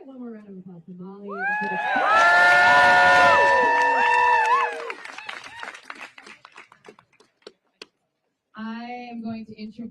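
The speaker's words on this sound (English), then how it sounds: "Can we get one more round of applause for Molly?" At a staff protest over layoffs, a crowd claps and cheers with whoops and shouts that swell for a few seconds, then fade into scattered claps. A voice speaks briefly before and after.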